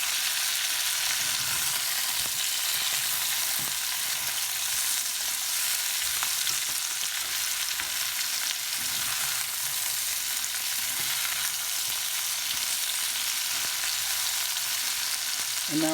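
Spaghetti being stirred through a gorgonzola cream sauce in a hot pan, giving a steady, close sizzle and frying hiss with soft scraping stirs throughout, no voices.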